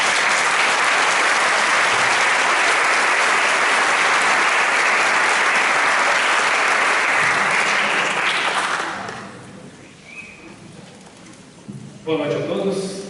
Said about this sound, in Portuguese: Pode receber uma salva de palmas